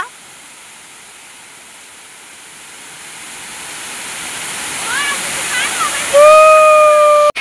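Valvali waterfall pours in a constant broad roar that grows louder as the listener moves closer, with brief voices and a whistle-like tone near the end.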